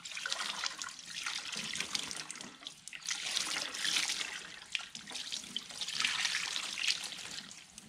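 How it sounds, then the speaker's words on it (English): Hot water poured from a bucket over a gas bottle, a continuous splashing, trickling pour that swells and eases in waves, close and steady, with no talking. "so I've got hot water in a bucket and I'm pouring it over the bottle"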